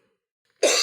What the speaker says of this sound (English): I don't know why I'm coughing